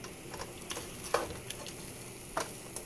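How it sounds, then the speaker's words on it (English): Quiet, steady sizzle of frozen vegetables frying in a pan, broken by occasional light clicks and taps of stirring. "You hear that sizzle?"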